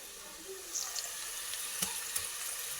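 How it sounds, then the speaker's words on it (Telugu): Ginger garlic paste and onions frying in a pan, a steady close sizzle with faint stirring and scraping and no talk. "ఇట్లా ఉల్లిపాయ కూడా వేగినాక ఫ్రెష్గా దంచుకున్న అల్లం వెల్లుల్లి పేస్ట్"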